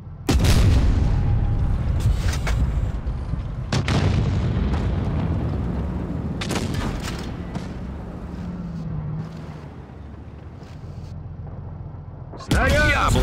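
Tank cannons fire in the World of Tanks Blitz video game, heavy booming shots spaced several seconds apart over a rumbling battle background, with the final blast arriving near the end.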